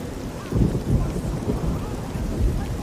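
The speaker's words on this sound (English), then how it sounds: "And what is it with this rain?" Steady rain with low rumbling thunder in the Elder Scrolls IV: Oblivion video game, a dense wash of falling rain under a continuous deep roll of thunder, close and moderately loud.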